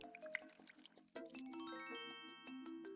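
Bright watering chimes from a water pump in the Strawberry Shortcake game, a run of drippy plinks and tinkling tones followed by a rising shimmering jingle, alone and fairly quiet.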